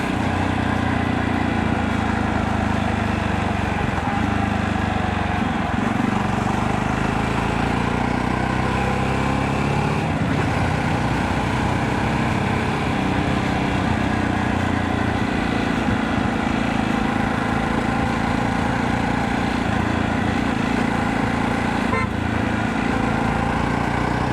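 A Jawa Perak motorcycle engine runs while riding, a continuous loud throbbing drone with road and wind roar close to the rider, steady throughout the long stretch with no speech.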